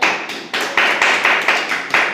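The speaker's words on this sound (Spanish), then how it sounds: "Vamos a un aplauso a la palabra" Congregation applauding at a church service, a brief round of clapping that swells in several surges, fairly close and loud with no voices over it.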